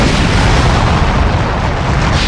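A flame rocket-flight move blasts off in Roblox Blox Fruits, a loud, dense, roaring burst that stays at full strength for the whole moment, with no pauses.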